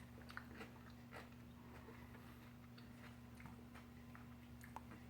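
Quiet, crisp crunching bites of sauerkraut repeat irregularly close to the mic over a low steady hum.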